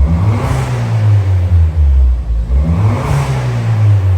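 A cold Ford Fiesta ST200 with Mountune induction parts revs twice, each blip swelling into a loud, close intake roar before falling back to a rumbling idle.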